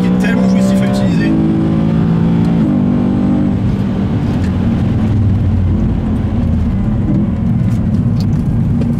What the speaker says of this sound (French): c'est un moteur qui est tellement jouissif à utiliser.